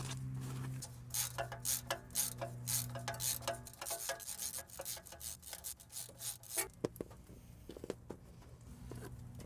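A wrench loosens the 12 and 14 millimetre exhaust flange bolts on an old 1999 Honda CR-V, making close, faint scraping, ratcheting and metallic clicks in irregular bursts.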